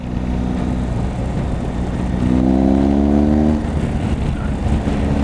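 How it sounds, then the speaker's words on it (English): A motorbike left unstarted for a week runs with a low, loud engine rumble near Glendalough; midway it revs up into a rising whine before settling back to idle. "Just to get the bike out for a spin, because it hasn't been started in a week"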